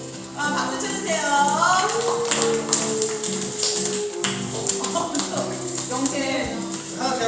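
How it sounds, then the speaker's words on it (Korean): A youth congregation at a church service claps along in a steady patter of applause that carries through, with a presenter's amplified voice and background music continuing over it. "박수 쳐주세요."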